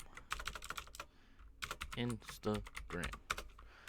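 Rapid clicking of computer keyboard typing in irregular bursts, fairly close, with some voiced sounds mixed in partway through.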